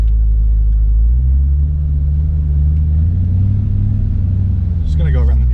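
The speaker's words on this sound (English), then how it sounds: "I'm gonna take this thing on a first drive here." A Cadillac drift car's engine rumbles low and steady from inside the cabin as it pulls away, the tone rising slightly as it gets moving, with a voice heard briefly near the end.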